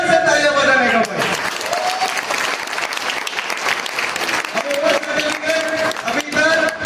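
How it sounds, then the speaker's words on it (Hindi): Workers clap together at a safety awards ceremony on a construction project, a dense burst of applause lasting several seconds, with someone speaking before and after it. "उसके लिए बहुत बढ़िया से तालियां बजाने का भाई"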